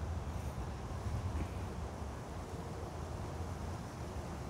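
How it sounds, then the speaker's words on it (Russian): Steady, blustery wind at a quarry lake rumbles against the microphone in a constant low roar, with no voices. "Но сильный ветер."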